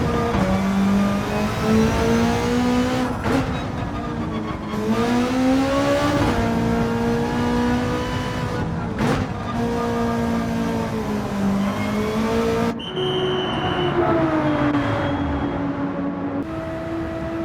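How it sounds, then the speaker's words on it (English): A race car engine in Gran Turismo 7 at Road Atlanta, in a Manufacturers Cup race, drones loudly as it slows into the pit lane, with pitch rising and falling through gear changes and a sharp shift near the end, heard alone. "the GTR behind just served a penalty, giving Dordanov some breathing room to calmly pull into the pits."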